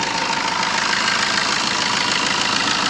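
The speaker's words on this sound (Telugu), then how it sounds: "ఇంజన్ సౌండ్ కూడా చాలా తక్కువ ఉన్నది." A Tata Zest XE Quadrajet diesel engine from 2018 idling nearby, a steady even rumble with a faint rapid knock and no change in pitch, heard alone.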